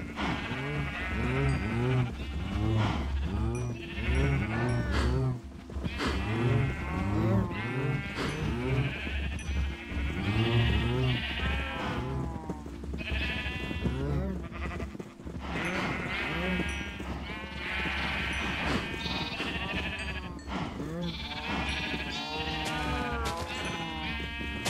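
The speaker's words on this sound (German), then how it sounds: "kommen von mir aus auch noch die Schafe, wobei wir die dann auch bald wirklich abschlachten müssen" Sheep bleat repeatedly in the video game Minecraft, several overlapping wavering calls close and loud over a constant background tone, almost without pause.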